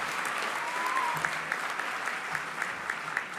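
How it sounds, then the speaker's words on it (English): Applause fills a graduation ceremony hall, a dense, steady clatter of many hands clapping continuously throughout, fairly loud and unbroken. "Can we also give one big round of applause to our name readers, Mick Jays and Jalanoa Valia?"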